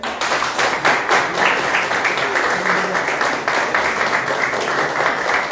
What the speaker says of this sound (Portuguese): Salva de palmas para o mestre